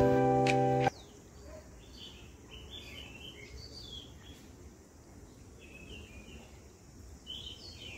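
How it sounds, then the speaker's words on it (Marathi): Small birds chirp and tweet in scattered short calls outdoors in a cool natural setting, fairly distant and soft over a low background hum, after a brief loud tone at the start. "त्या थंड वातावरणात त्याच्यात तो पक्ष्यांचा चिवचिवाट वगैरे"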